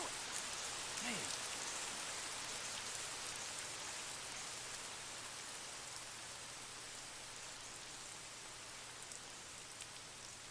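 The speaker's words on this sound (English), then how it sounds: "Oh, great. It's raining." Rain pouring in the video game Lost Odyssey, a constant even hiss of drops on surfaces, fairly quiet and unbroken throughout with no voices.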